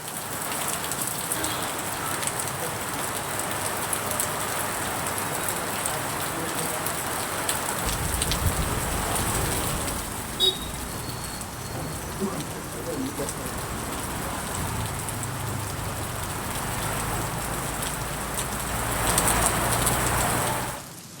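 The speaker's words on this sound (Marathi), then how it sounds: "वादळी वाऱ्यासह जोरदार पाऊस झाला" Heavy rain with stormy wind in Nanded district, Maharashtra, pours steadily with a dense hiss on surfaces, a few birds calling faintly in the background.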